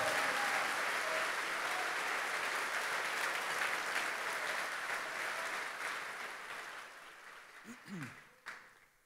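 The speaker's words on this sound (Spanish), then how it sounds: "dele un aplauso fuerte al Señor" Loud, dense applause from a large church congregation, sustained for several seconds before tapering off, with a voice briefly emerging near the end.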